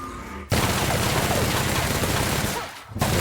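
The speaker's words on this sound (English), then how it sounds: "got this electric machine gun. Let's try that on this guy." Dense, continuous bursts from an electric machine gun in the video game The Outer Worlds, loud and steady for about two and a half seconds before a brief gap and another burst.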